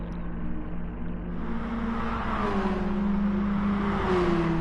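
A BMW M3 race car in GT Sport drones steadily at high revs, the engine pitch rising and sliding as it accelerates through a race on the Nürburgring, loud and continuous with no talking.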